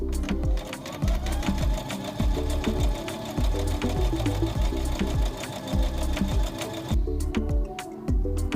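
Sewing machine stitching a strip of elastic into small Barbie doll clothes, a steady rapid mechanical chatter of needle strokes running continuously and close, with a short pause near the end before it resumes.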